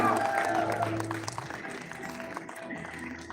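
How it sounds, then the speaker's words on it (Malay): An audience claps at an event, a soft, fairly distant patter of applause that slowly thins out, with murmuring voices and a low hum beneath. "Zakuan berikan tepukan gemuruh."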